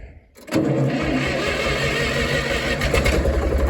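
A small 135 tractor engine cranks and catches after a quiet moment, then settles into a steady, close, mid-pitched idle with slight revving pulses.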